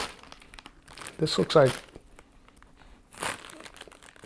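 Small plastic bags of spices, including nutmeg and cinnamon, crinkle as they are pulled from little jars in a pantry, in a few close, crackly bursts under and between a person talking.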